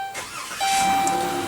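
A 2016 Chrysler Town and Country's 3.6-liter V6 starts from a push-button ignition, giving a brief starter whir that quickly rises into a steady, close engine idle over about a second and a half.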